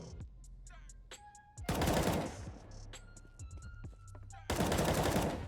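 Automatic rifle fire in the video game CS:GO, two loud sustained bursts of rapid shots with quieter in-game clicks and beeps in between.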